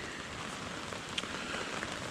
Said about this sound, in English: We started rain showering.